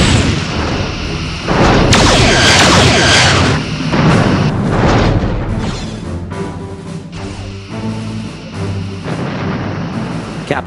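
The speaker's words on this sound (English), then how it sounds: "Lining up rear torpedo tubes." Starship torpedoes fire in a space combat video game as deep booming blasts with a long rumbling roar. Several heavy bursts follow one another, loud and up close, with no voices.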